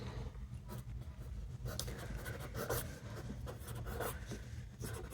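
Pen or chalk scratching steadily while a maths equation is written out in a class lesson, a faint, continuous rubbing texture with small irregular strokes throughout.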